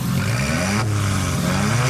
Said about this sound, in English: this car is seriously loud